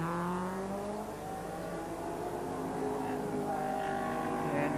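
A Nissan Skyline race car at Sandown circuit in the 1989 Sandown 500 sweeps past with a rising, then falling engine howl. The whine shifts pitch as it goes by, clear and fairly loud, with faint crowd or commentary ambience behind it.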